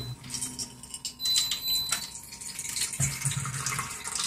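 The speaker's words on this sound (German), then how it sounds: "Und hier das Analyt geben wir oben nochmal rein." Anolyte water poured back into a top container, an uneven splashing trickle with clinks of the vessel, close by and without speech.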